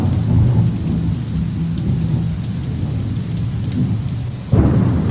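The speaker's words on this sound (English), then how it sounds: "It's kind of a single take on a rainy evening." An August evening thunderstorm with heavy rain pouring steadily, deep thunder rumbling throughout and a sharp, louder thunderclap near the end.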